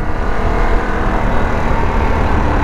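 A 2021 Harley-Davidson Pan America motorcycle engine revs loudly and close, a dense, throaty roar that holds steady through the short stretch without speech.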